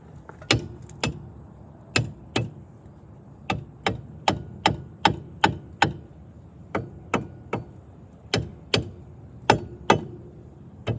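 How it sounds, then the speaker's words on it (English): Sharp, evenly spaced whacks of a rubber mallet striking metal, about two per second, each a crisp knock with a short ring, working loose a failed ball joint on a 2007 Jeep Liberty. "Rubber hammer."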